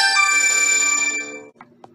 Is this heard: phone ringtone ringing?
yes